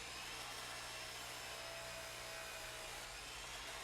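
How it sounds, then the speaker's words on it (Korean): A power sander works over the surface of a bronze Buddha statue, a steady broadband grinding whir holding an even level throughout, with no voices. "거친 사포부터 점차 고운 사포로 옮겨서 표면이 매끄러워질 때까지 계속 작업한다"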